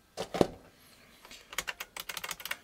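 Old computer keyboards with terminal connectors being handled, giving a few sharp plastic clacks and then a quick run of close key taps and rattles, with no talk.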